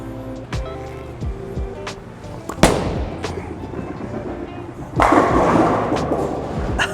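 A reactive bowling ball with a 2000-grit surface finish slams into the pins on a lane, giving a sharp crash followed by scattering clatter, then a second loud pin strike a few seconds later.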